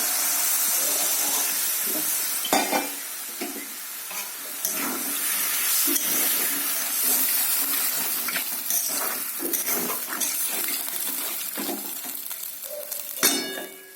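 Water comes to a boil in a pan for egg curry, giving a steady hiss of bubbling and steam with a few soft clinks scattered through it.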